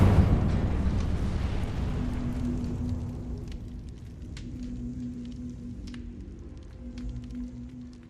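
The Incendio fire spell in the Hogwarts Legacy video game erupts in a loud burst of flame that fades into a crackling, sputtering burn with a lingering low hum, no voices heard.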